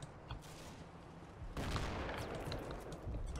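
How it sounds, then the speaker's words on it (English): Mortar fire in a military video game: dense, continuous booming and crackling volleys that swell louder partway through, heavy and rumbling throughout. "I think it was just mortars"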